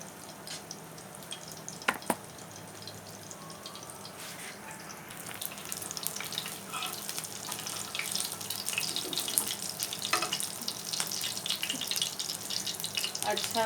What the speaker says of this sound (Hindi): और अभी हमने तवे पे डाल दिया है पकने के लिए